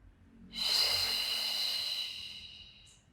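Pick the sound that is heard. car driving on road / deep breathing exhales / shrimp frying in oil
deep breathing exhales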